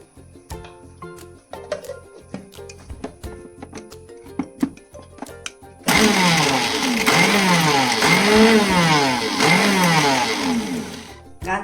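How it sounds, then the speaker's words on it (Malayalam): A kitchen mixer grinds coconut and ginger, starting abruptly halfway through with a loud, steady whirring roar that swells and dips rhythmically, after quieter clinks and handling noises. "തേങ്ങ നല്ലോണം തേങ്ങയും ഇഞ്ചിയും നല്ലോണം അരച്ചിട്ട് ഇതിൽ മിക്സ് ചെയ്യുക."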